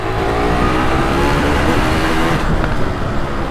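A Suzuki 2-stroke 185cc motorcycle engine revs loudly and close by, a continuous buzzing roar that holds steady, then eases slightly near the end.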